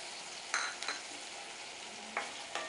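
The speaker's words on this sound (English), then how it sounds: "Just saute this for a minute." Keema sautéing in a pan crackles in a soft, steady sizzle, broken by a few sharp scraping stirs of a spoon against the pan.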